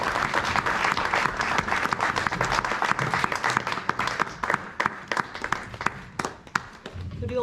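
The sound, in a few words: audience applause at graduation ceremony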